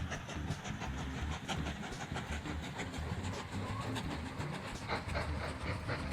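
Train rolling along rails in the railway-building game Mashinky, a steady continuous rumble with rhythmic clatter running throughout, fairly loud and without talk.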